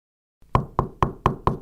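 Five sharp knocks on a door in a radio advertisement, evenly spaced and loud, with no talking over them.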